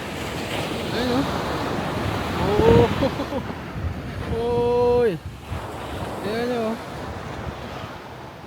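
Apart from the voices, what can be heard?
sea waves on the shore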